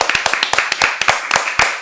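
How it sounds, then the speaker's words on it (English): Applause for Tomoha-san from a live crowd, a dense run of clapping with sharp irregular hand claps layered over one another and staying steady and close throughout. "We gotta give her a big round of applause."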